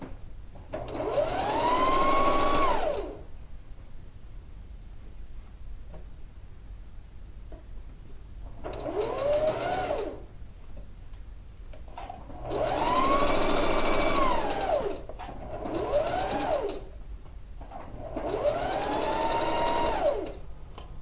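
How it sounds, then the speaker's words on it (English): A sewing machine stitches a wrap dress in four loud bursts of whirring, each a few seconds long with rising and falling motor pitch, separated by quiet pauses. "I'm setting that up and I'm just going to start stitching"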